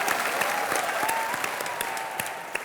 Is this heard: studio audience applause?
yes